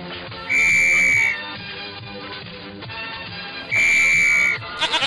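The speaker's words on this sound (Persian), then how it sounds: "ببخشید سوت به لبم بود، عطسه کردم." A whistle blown by a sneeze in an animated children's story, two loud shrill blasts about three seconds apart over background music, followed by brief clicks.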